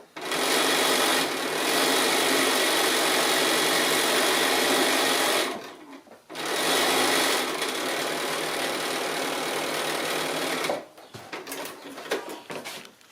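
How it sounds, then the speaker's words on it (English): A sewing machine stitches the last seam of a quilt-as-you-go block, running as a loud steady whir in two long bursts with a brief stop between them, then slowing to a few short stitches at the end. "It's always so exciting when you're just doing that last seam in a block."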